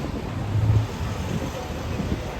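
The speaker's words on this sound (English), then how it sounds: "It's very windy though." Strong wind in Istanbul near fenced grounds by Istanbul University roars and buffets the microphone in a steady, loud rush of noise throughout.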